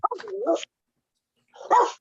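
A dog gives a couple of short barks with whiny, whimpering tones, in two bursts separated by a pause of silence.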